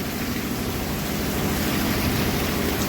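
Heavy rain pours down on a farm, a dense, even hiss of downpour that stays loud and unbroken throughout with no voices.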